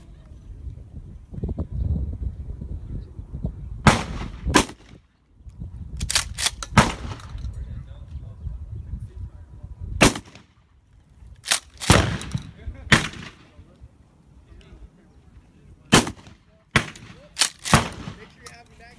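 Sharp, loud gunshots fire one after another in irregular bursts at a shooting range, with a low rumbling background and faint voices between shots.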